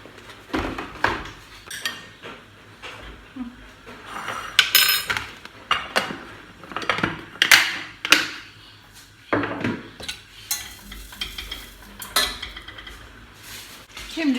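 Pots, pans and cutlery clink and clatter in a home kitchen as soup is started with oil, butter and mince in a small pot, scattered clanks repeating irregularly throughout, close and fairly loud.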